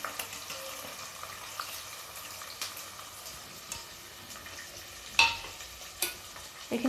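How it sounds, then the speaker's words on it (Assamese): Mustard seeds and toor dal being stirred in a hot frying pan for sambar, with a steady crackling sizzle throughout, broken by a few sharper scrapes and taps of the spoon. "এইখিনি মই লৰাম অকণমান।"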